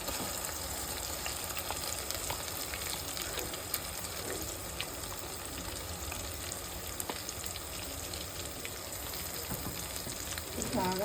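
Masala paste fries in hot oil with onion, green chilli and tomato for a chicken curry, giving a dense, constant sizzle and crackle that stays close and steady throughout.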